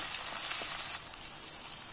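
Grated ginger and garlic sauté in hot oil for a masala pasta, giving a steady, close hiss and crackle of frying that runs unbroken without talk.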